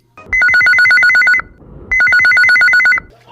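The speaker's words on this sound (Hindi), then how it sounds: "आओ देखते हैं कौन संगवारी के पहली फोन कॉल आए है।" A telephone ringtone trills in two loud bursts with a short pause between them, a listener call coming into a radio phone-in show. It sounds close, and no one speaks.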